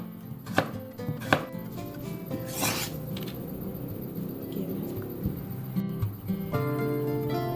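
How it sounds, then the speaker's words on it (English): A knife cuts half a carrot into slices on a chopping board, giving a few sharp, close taps early on, followed by quieter scraping and light clinks over a low room hum. "Half a carrot, cut into half and sliced."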